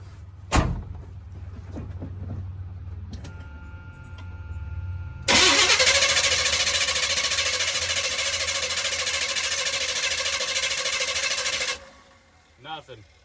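After a thump and low hum, an engine fitted with a junkyard Holley 600 carburetor whirs loudly and continuously as it cranks for about six seconds, then cuts off abruptly.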